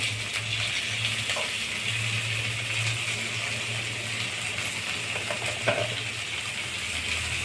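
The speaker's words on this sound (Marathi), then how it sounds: "टमाटा पण छान परतून घेणे" Tomato being sautéed in a pan with capsicum for rava sweet corn upma, a soft continuous sizzle and light stirring at moderate distance, with a faint hum underneath.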